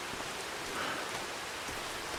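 Steady rain falling in Farming Simulator 25 on a December day in Tuscany, Italy, a dense, even hiss of drops on surfaces that holds constant throughout, fairly quiet and with no voices.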